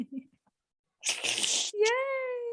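A single close sneeze bursts out abruptly, followed at once by a short cheerful voice.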